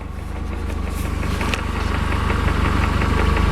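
At idle, a Mercedes 124 gearbox gives off a quick regular clatter of knocks layered over the engine's constant low drone, close-up and unbroken for the whole stretch.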